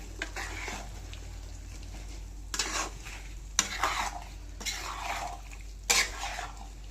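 Chicken pickle being mixed in a pan, with repeated spoon scrapes and clinks against metal at an uneven rhythm over a faint background hum, close by and without voices.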